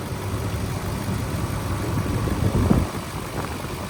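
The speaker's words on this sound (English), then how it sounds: "nice and smooth running engine, no odd noises or vibrations, very smooth" A 2010 Nissan Armada 5.6-liter V8 engine idles steadily and smoothly, a low even rumble with no talking, close by.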